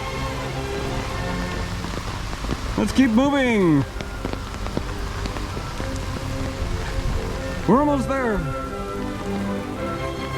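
Steady rain patters over a palace garden in Munich, a constant wash of drops throughout. A person speaks briefly over it, and a couple of rising-falling vocal or tonal sweeps stand out near the start and end.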